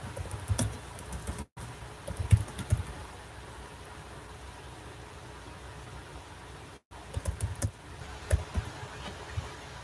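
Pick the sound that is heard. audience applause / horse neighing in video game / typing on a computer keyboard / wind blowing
typing on a computer keyboard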